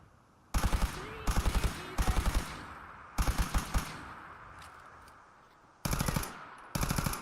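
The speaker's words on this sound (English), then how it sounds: "Who the fuck is shooting at me?" Automatic gunfire in the Fallout 4 video game, rattling out in several loud, rapid bursts separated by short pauses, with no talk.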